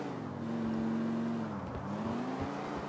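A car engine in the game GTA IV with the LCPD:FR police mod drones steadily and loudly as the vehicle speeds across a bridge, its pitch holding and then dipping briefly before rising again.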